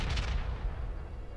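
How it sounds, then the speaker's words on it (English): Heavy bombardment from an Avenger tank in the strategy game Pandora: First Contact, a booming blast at the start whose rumble rolls on and fades over the next second, loud and with no voices. "It's an Avenger tank. Bombards."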